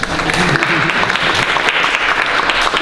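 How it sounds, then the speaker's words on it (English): Audience applause at a public meeting at the Banneker-Douglass Museum in Annapolis: loud, dense clapping fills the room from start to finish at an even level. "The pause here for applause."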